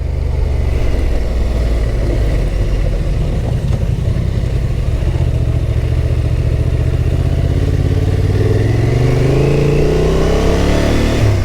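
A Honda Transalp motorcycle engine roars continuously while riding off road at an adventure bike festival, loud and close throughout, with the revs rising and pitch climbing toward the end.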